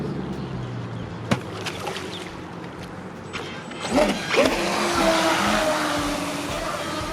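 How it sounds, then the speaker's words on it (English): Racing motorboat engines roar past fairly close in a speed test, a rising whine building into a sustained loud drone with rushing water, after a sharp knock near the start. "we're going to do our boats, and we're going to see speed test"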